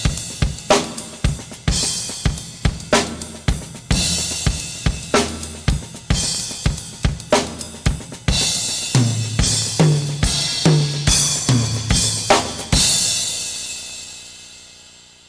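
Swing groove on a drum kit with the ride cymbal carrying a steady shimmering pattern over punchy kick and snare accents, played alone and loud, ending in a long ringing cymbal decay.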